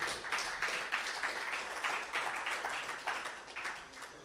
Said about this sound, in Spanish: Dar un aplauso al Padre, al Hijo y al Espíritu Santo.